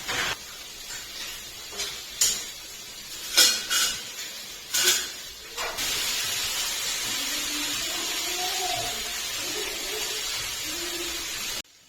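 Metal pots and dishes are set down and stacked in a home kitchen with a few sharp clanks and clatters, followed by a steady hiss, likely from a gas stove, as eggplant roasts.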